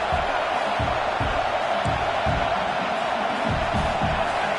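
A large stadium crowd roars steadily, a broad sustained wash of cheering with occasional louder swells.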